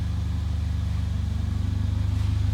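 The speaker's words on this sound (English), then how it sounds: "it comes with that really nice exhaust system that sounds absolutely fabulous" A 2015 Mercedes-Benz GLA 45 AMG exhaust, a deep, steady burbling rumble with a slight pulsing throb, heard close and alone.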